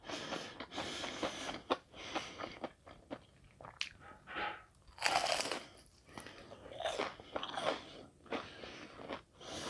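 Crunchy fried shrimp tempura eaten close to the microphone, with loud, crisp bites and repeated crackling chews in an irregular rhythm and no talking.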